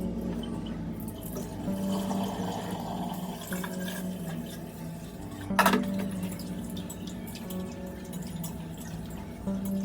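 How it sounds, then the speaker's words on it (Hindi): Rice being washed with water in a home kitchen, with steady running and sloshing water, soft drips and one brief louder splash midway through. "तो चावल को अच्छे से वॉश कर ली 4-5 पानी से।"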